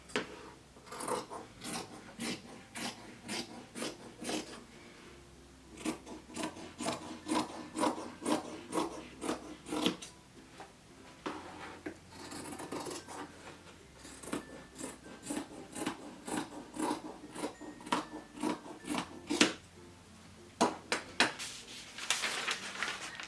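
Scissors cutting through sweatshirt fabric laid out on a pattern, with repeated crisp snips in steady bursts, close and fairly loud, pausing briefly between runs of cuts; no one speaks.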